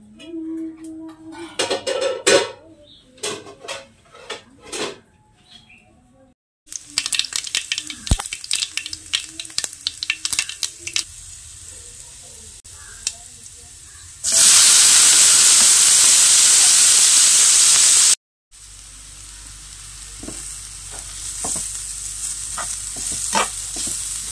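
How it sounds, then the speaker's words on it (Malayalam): Mustard seeds, with cumin, kanthari chilli and turmeric, fry in oil for a banana-blossom thoran: crackling pops and sizzles come in bursts, then a loud steady hiss, then more scattered spattering. "കടുകെല്ലാം വറുത്തിട്ട് എണ്ണേനകത്തേക്കിട്ടിട്ട് തോരനാക്കി എടുക്കട്ടെ"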